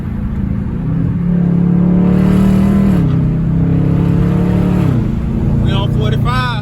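A Dodge Charger Scat Pack drives in traffic, its engine a loud, steady drone heard from inside the car, with the pitch shifting as it changes gear.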